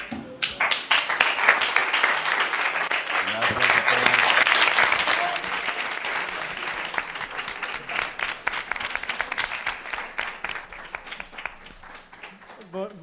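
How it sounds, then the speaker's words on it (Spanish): Sustained applause from remote audiences over open microphones, dense clapping that swells then gradually thins and fades, with some talking mixed in. "solicitándoles únicamente que abran sus micrófonos para agradecer la conferencia con un aplauso"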